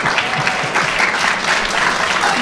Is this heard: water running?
no